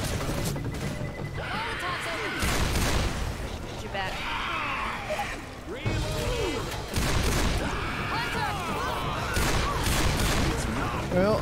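Bursts of Left 4 Dead gunfire crackle in dense volleys across a chaotic co-op fight, with people talking over the shooting throughout.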